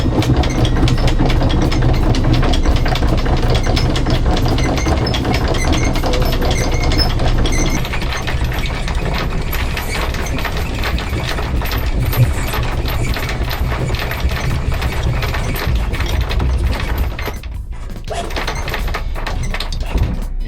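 A sailboat's engine runs as the boat weighs anchor to head for the fuel dock, a loud, steady, low rumbling drone with mechanical clatter throughout and a slight drop in level partway through.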